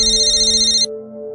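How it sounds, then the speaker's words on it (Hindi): A mobile phone ringtone plays, a bright electronic warbling tone that sounds loud and close, then cuts off abruptly before the clip ends while a lower hum lingers. "आपका फ़ोन हमेशा गलत वक्त पे क्यों बजता है?"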